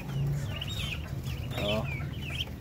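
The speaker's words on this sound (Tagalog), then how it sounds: "Lakas sumibsib ng mga sisiw natin" Native chickens and their chicks at feeding time make a busy mix of low hen clucks and high, thin chick peeps, fairly close and overlapping in quick bursts.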